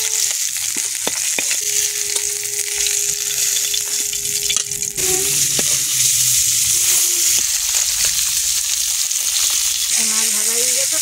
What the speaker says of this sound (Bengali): মাছগুলো ভাজা হয়ে গেছে, তুলে নিচ্ছি।